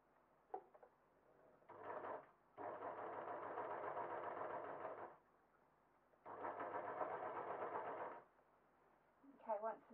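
A sewing machine runs in two sustained bursts of stitching on a jersey cotton dress seam, close and even, with short pauses and brief handling clatter between them.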